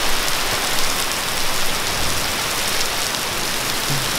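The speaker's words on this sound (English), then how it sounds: "I didn't know it could rain this much." Torrential downpour, heavy enough to flood a kitchen, pours down as a steady, dense roar of rain close by, unbroken for the whole stretch and with no talking over it.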